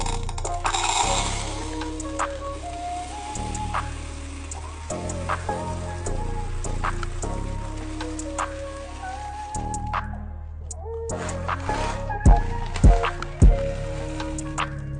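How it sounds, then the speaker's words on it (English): Pink hard wax beads pour into a bag in a steady, close patter of tiny ticks and rattles, with a few louder clicks near the end. "Their wax just sounded too cute going into their pocket."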